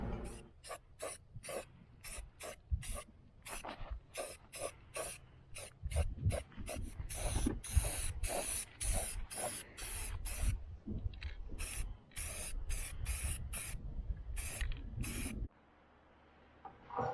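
Short bursts from a spray paint can hiss outdoors in rapid, irregular succession, some longer sustained sprays in the middle, ending with a quiet pause.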